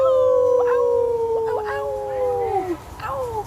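People imitating a wolf howl at a storytelling session: several voices sing long, rising and falling howls together, loud and near, overlapping for a few seconds.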